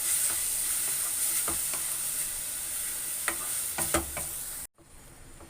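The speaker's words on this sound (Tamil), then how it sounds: "இப்போ இதுக்கு நல்லா வதக்கிக்கலாம்." Ridge gourd sautés in ghee in a pan, a steady close sizzle broken by sharp clicks and scrapes of a spoon stirring, before the sound abruptly cuts out near the end.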